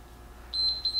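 A workout interval timer gives a steady, high electronic beep that starts partway through and pulses a few times, clear over a quiet room background with no talking.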